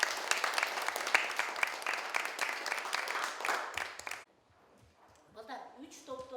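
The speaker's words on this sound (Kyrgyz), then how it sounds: "бүгүнкү долбоор үчүн кол чаап койбойлу" A classroom of children claps for about four seconds in dense, steady applause that stops abruptly, after which a voice speaks quietly.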